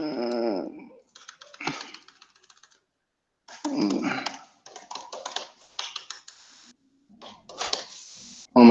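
Typing on a computer keyboard: scattered bursts of quick clicky keystrokes with pauses between them, close and fairly loud, and a short stretch of speech at the start.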